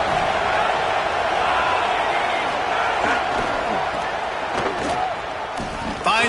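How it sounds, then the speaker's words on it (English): A football stadium crowd fills the air with a dense, sustained roar of cheering that stays loud throughout, with scattered claps, shouts and occasional sharp bangs within the wash of noise. "Listen to this crowd just shaking the girders of this place"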